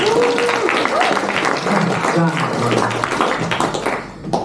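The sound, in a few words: audience applause for rope examiners at magic show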